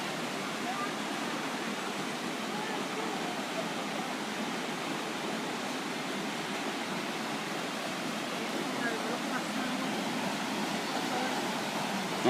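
Pistyll Rhaeadr, a tall waterfall in North Wales, gives a steady broadband rush of falling water that stays even and unbroken throughout, heard close up with no voices over it.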